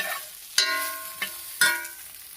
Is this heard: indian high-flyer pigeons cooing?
no